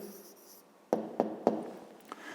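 An answer is written by hand for a fifth-grade maths exercise: a few short, distinct pen strokes and taps on paper, fairly quiet and close, after a brief faint voice at the start.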